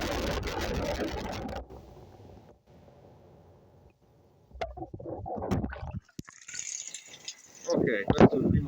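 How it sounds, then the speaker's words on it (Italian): A rugged AGM H5 Pro smartphone dropped into a sink full of water, giving muffled splashing and sloshing at first, then a quiet submerged stretch before louder water noise and movement return. "Adesso lo butto dentro al lavandino pieno d'acqua."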